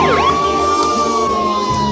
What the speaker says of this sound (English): I heard sirens in the background.